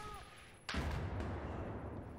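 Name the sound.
gunfire in a video game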